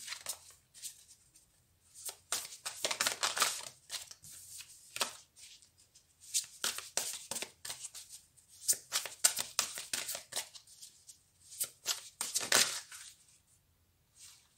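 Playing cards are shuffled and handled close by in a tarot card reading, producing repeated crisp riffling and sliding bursts with brief pauses between them.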